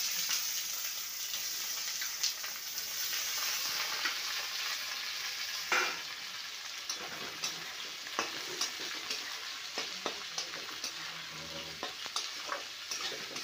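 Chopped onions with whole garam masala and a pinch of sugar frying in a karahi for mutton curry, a constant loud sizzle broken by regular scraping knocks of a spoon as they are stirred.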